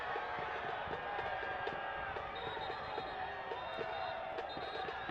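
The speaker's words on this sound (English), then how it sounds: "Hear the crowd at CHI Memorial" A stadium crowd at CHI Memorial reacts to a referee's free-kick call during a Chattanooga Red Wolves vs Greenville Triumph soccer match, a steady broad roar of voices and shouts filling the space throughout.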